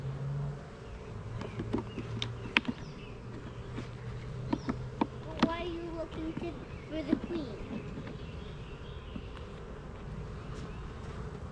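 Honey bees buzz steadily around an open hive during a spring inspection, a close, continuous drone broken by sharp clicks and knocks of equipment, with a person talking softly nearby.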